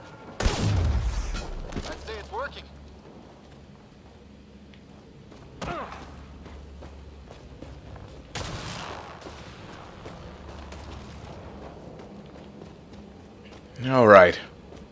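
Gunfire in Mass Effect Andromeda comes as a few sharp isolated shots spread across the stretch, with a louder burst near the end, over quiet game ambience and someone talking between shots.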